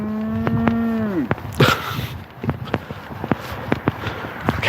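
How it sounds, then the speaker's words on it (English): Cows moo outdoors during a Sunday morning walk, one long drawn-out low call up close followed by scattered footsteps, thumps and faint movement sounds. "Cows over there."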